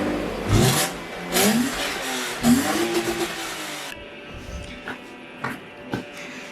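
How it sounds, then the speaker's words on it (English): A BMW engine with no muffler revs hard three times in quick succession, each loud raspy rise falling back, then settles to a rough idle with a few lighter blips. "I think this sounds like I have no muffler"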